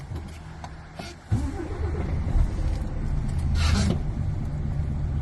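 A truck (LKW) engine being started and run during a pre-departure brake check, giving a steady, fairly loud low rumble that rises slightly midway and holds for the whole stretch.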